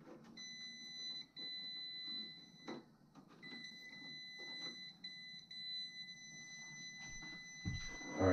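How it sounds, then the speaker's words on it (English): A high electronic beep sounds in long steady tones with brief gaps, moderately loud over a quiet room with faint clatter. "do you hear that beeping?"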